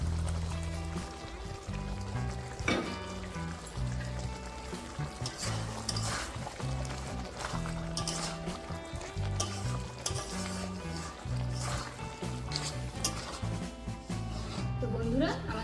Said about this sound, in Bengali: এখন আমি ভেজে রাখা টমেটো পেঁয়াজটাকেও দিয়ে দেবো।